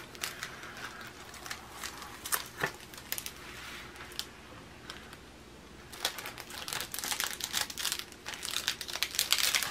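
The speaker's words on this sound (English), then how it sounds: "we're gonna peel gently one side of the canvas" Transfer canvas backing being peeled off by hand, heard as a run of crisp crinkling and crackling bursts, close and fairly loud, with a quieter pause midway before the peeling resumes more densely.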